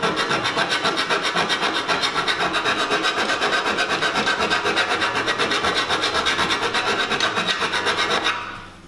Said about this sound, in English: the more we file it, the cleaner the cut and the easier it becomes